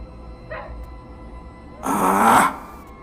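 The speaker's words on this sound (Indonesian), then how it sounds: "suara lolongan anjing yang terus-menerus menggonggong, saling bersahut-sahutan" Dogs in a quiet village howl and bark at night, calling back and forth: a brief faint yelp comes first, then a louder, rougher bark-howl lasting about half a second before the night falls quiet again.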